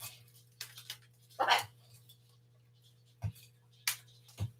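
A dog gives scattered short barks and whimpers indoors, separated by quiet gaps, over a steady low electrical hum.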